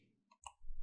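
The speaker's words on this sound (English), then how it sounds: "Right click on LabConfig" A computer mouse is right-clicked on a desktop during a Windows 11 install fix in VirtualBox, giving a couple of short, faint clicks close to the mic, with a low rumble toward the end.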